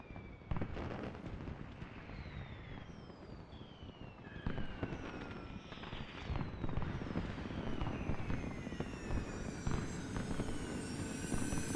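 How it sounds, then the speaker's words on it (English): Fireworks in the Final Fantasy XIII video game: a dense, loud barrage of bursts and crackles with rising and falling whistling streaks, continuous throughout without talk. "Gotta love these fireworks."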